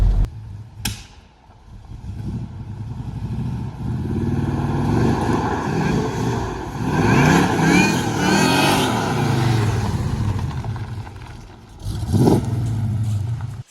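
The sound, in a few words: supercharged straight-six car revving, supercharger whine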